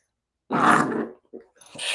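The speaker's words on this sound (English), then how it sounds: "Yes, we like the doggy sounds around here." A dog gives a loud, gravelly grunt-growl lasting about half a second, followed by a couple of shorter, softer grunts, indoors with no talking over it.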